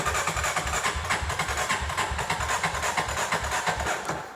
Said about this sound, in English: so this will be a cold start. Some choke here.